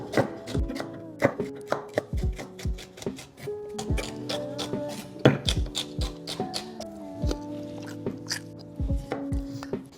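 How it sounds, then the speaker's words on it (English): A knife chopping celery on a cutting board, a close series of sharp, irregular wooden knocks in quick bursts and pauses, with faint clinks between the cuts. "I have here a little bit of celery. I will also cut that a little bit."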